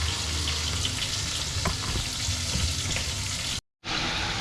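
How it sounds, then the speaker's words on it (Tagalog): Pork fat rendering in a frying pan, giving a steady, close sizzle and crackle with faint clinks, running continuously before a brief dropout near the end. "Pero kailangan natin munang pamantikain yung taba."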